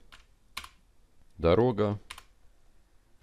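Keys clatter on a computer keyboard as a short text prompt is typed, a few quiet clicks then a denser burst of typing, with a voice speaking briefly over it.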